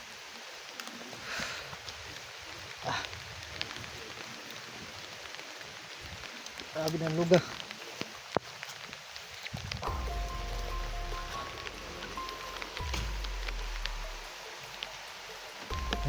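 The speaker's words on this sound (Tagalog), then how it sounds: "lakas ng ulan tol" Heavy rain falls in a video game, a steady wash of downpour running throughout, with brief muffled thumps and low rumbles mixed in and a voice speaking briefly.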